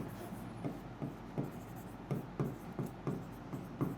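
Pen or marker writing on a board during a Bengali-language English lesson, a steady run of short scratchy strokes in quick rhythm, close and moderately quiet over a faint room hum.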